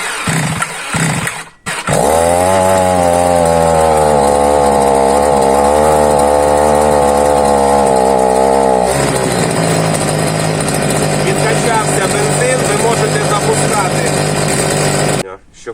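Procraft T4200EL petrol grass trimmer with electric start fires up and runs loud and near, its two-stroke engine droning steadily, then settling to a rougher, lower running note for the rest of the clip.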